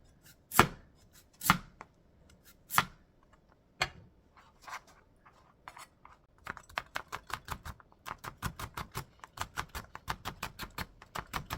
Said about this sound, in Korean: 당근을 이렇게 쓸었으면은